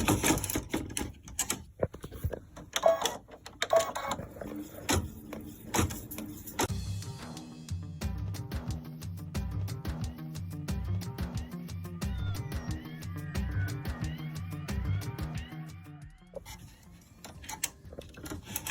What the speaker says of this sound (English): All right, we'll finish stitching it up.